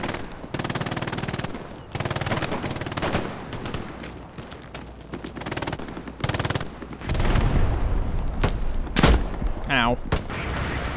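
A British Bren gun fires in Hell Let Loose, loud bursts of rapid automatic fire separated by short gaps, with a heavy boom near the end.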